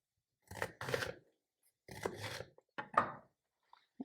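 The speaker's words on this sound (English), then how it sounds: "But mine are really huge today, so I'm gonna cut them into strips." A knife slices large bok choy into strips with a few crisp, crunchy cuts in separate bursts, close and fairly quiet against a silent background.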